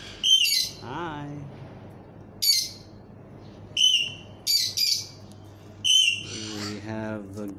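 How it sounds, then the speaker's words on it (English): A pet cockatoo gives several loud, close, harsh squawks and whistle-like calls in short bursts separated by pauses, alongside a person's voice. "We have a cockatoo."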